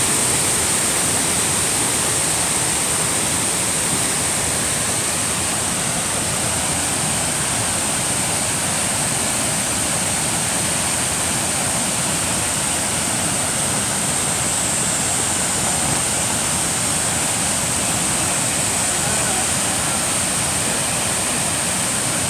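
Hogs Back Falls pours in a steady, full roar of rushing water, loud and unbroken throughout with no voices over it.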